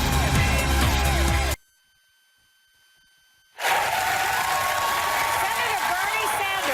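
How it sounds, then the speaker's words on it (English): Loud studio audience applause and cheering on a television talk show, cut off abruptly by a couple of seconds of near silence, then resuming just as strongly. "They're clapping already."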